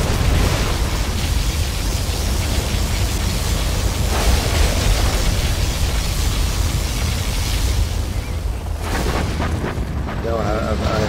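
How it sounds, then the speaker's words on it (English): Particle cannon fire and explosions in Command & Conquer Generals Zero Hour, a USA superweapon battle against China: a dense, loud, sustained rumbling roar of blasts and booms that drops away near the end, with a brief voice cue afterward. "Particle cannon activated."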